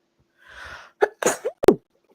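A single sharp sneeze, preceded by a short breathy intake, close and loud against silence.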